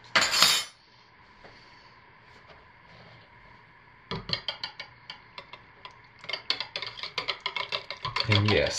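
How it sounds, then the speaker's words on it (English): A utensil stirs a batch of cold-process honeysuckle soap with colorant by hand, producing quick rhythmic clinks and taps against the container in bursts after a quiet stretch, with a brief sound at the start. "But we'll stir it in by hand and see."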